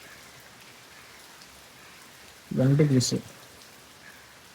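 Steady rain patters outside as a constant hiss of drops on surfaces, with a voice briefly speaking over it midway.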